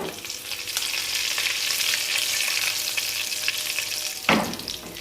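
Curry leaves hit hot oil with golden fried garlic, giving a strong continuous sizzle and crackle, with a sudden louder burst near the end as more goes into the pan.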